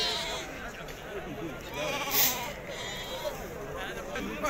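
Sheep bleat at Azrou's Tuesday livestock market, several drawn-out wavering calls over crowd murmur and nearby voices in a busy outdoor setting.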